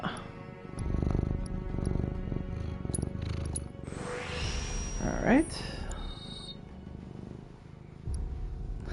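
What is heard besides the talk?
cat purring in a video game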